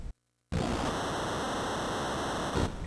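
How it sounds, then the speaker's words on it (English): Crowd noise from an NES wrestling video game, a loud, steady hiss like white noise that cuts in after a brief silence and holds unbroken to the end. "And is that supposed to be the audience? It sounds like white noise."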